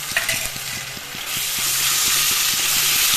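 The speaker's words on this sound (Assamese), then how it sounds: "তাৰপিছত দিম আদা নহৰু আৰু জলকীয়া পেষ্ট" Ginger, garlic and green chili paste drops into hot oil; after a quieter first second, a loud, broad sizzle swells up and holds steady, with a faint rhythmic background thump underneath and no talking.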